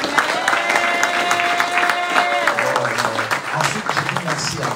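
A church congregation applauds and cheers steadily throughout, a dense wash of clapping and crowd voices with no pause. A sustained tone rises briefly above the crowd partway through.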